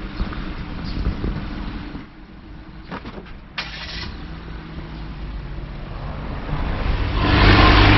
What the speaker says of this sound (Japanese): 車が通ります